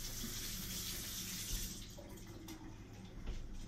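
Tap water runs steadily into a sink while a vine tomato is rinsed under it, a close, continuous splashing stream.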